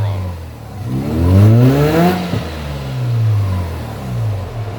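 A naturally aspirated street-ported rotary engine in a Mazda RX-7 FC revs at full throttle. Several rising and falling sweeps sound close and loud with no one talking.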